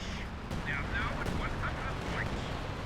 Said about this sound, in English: We have artillery coming in.